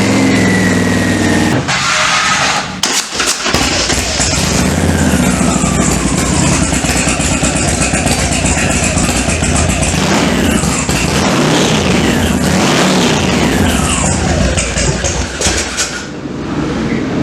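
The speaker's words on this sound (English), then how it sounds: "Okay, so to start the bike then, ignition on." A motorcycle engine starts up and runs, loud and close, with a brief starter burst before the engine catches and holds a steady running note with some revving for about fifteen seconds.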